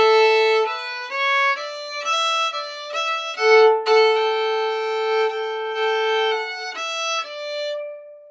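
A fiddle plays a phrase of the old-time breakdown Greasy Coat, clear and up close, moving through bowed notes of varied length with a few held tones, with no talking.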